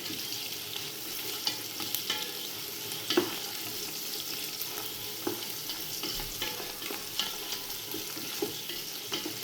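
Onions frying in a pan for chicken biryani are stirred after coriander leaves are added, producing a steady sizzle with repeated scraping and tapping of the spoon against the pan, close and continuous.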